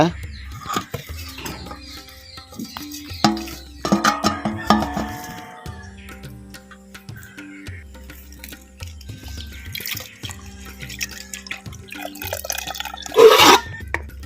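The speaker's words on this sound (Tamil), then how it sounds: "இப்போ ஆவரம்புவை நல்லா அலசிக்குவோம் தண்ணியில்" Avaram flowers being rinsed in water in a kitchen, with dripping, splashing and tap-like water sounds in irregular bursts, a louder splash near the end, and a voice speaking over it.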